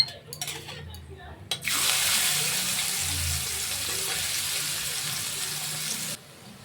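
Chopped onion hits hot oil and fries with a loud, steady sizzle that bursts in suddenly after a few soft clatters, holding evenly before cutting off near the end, cooked for a Bengali katla fish kalia.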